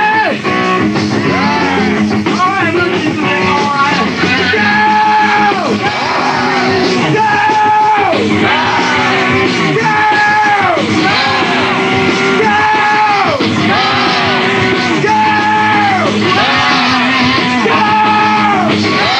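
A rock concert crowd yells and shouts together in loud, sustained waves at a live show in Kanagawa, dense and continuous, with a voice calling out over the crowd.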